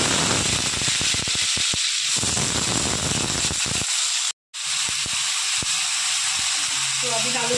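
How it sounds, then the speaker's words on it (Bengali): Soybean chunks and potatoes frying in hot oil in a wok, a loud, dense sizzle with sharp crackles, cut by a brief silence, then a quieter hiss with scattered pops. "তেল গরম হয়ে গেছে, এবার আমি সোয়াবিন আর আলু ভেজে নেব।"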